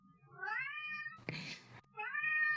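A cat meows indoors, two drawn-out rising calls separated by a short burst of rustling noise, close and clear in a quiet room.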